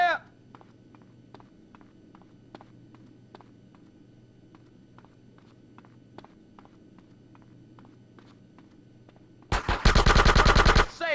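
Machine gun fire in Grand Theft Auto San Andreas: soft, regular ticking steps over a low hum, then a loud, rapid burst of automatic fire erupts near the end and dominates.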